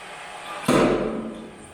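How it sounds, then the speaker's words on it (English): An old-school nail puller yanks a metal nail out of wood in a shop: one sharp, loud bang-like pry followed by a brief grinding drag that fades. "I'm gonna be pulling them out with this old school nail puller"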